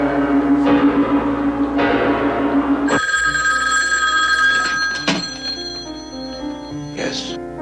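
Telephone ringing in a 1974 film: a loud, near bell rings in repeated bursts, followed by a few more scattered rings over a steady background hum.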